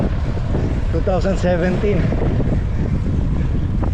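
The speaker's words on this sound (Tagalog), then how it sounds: "Ang lakas ng hangin pasalubong habang papuntang Infanta, papuntang Jarel." Strong headwind buffets the microphone in a constant loud roar during a road cycling ride in Rizal, Philippines, with a voice briefly speaking underneath.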